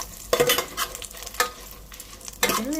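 Dried red chillies frying on a low flame give a soft sizzle, broken by a few distinct scraping strokes of a spoon against the pan, close and clear with no talk.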